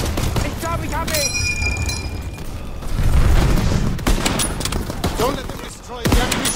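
Dense gunfire from Call of Duty WWII: rapid bursts of rifle and machine-gun shots crackle continuously, with heavier booming volleys partway through and voices mixed into the battle noise.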